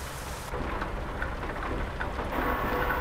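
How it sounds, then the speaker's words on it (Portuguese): Heavy rain pours in a dense, continuous hiss with a low rumbling undertone, loud and steady throughout. "chuva intensa"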